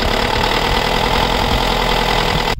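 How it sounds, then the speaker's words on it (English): A 2004 ex-army Mahindra MM950 converted camper, two-wheel drive, idles with a steady, loud, close diesel rumble and faint knocking texture, cutting off abruptly near the end. "So right now you can just check out the engine sound at the moment."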